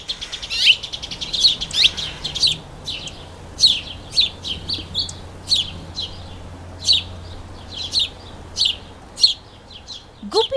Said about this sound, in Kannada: ಗುಬ್ಬಿಗಳು ಮಕ್ಕಳಿಗಷ್ಟೇ ಅಲ್ಲ, ದೊಡ್ಡವರಿಗೂ ಪ್ರಿಯ ಪಕ್ಷಿಗಳು.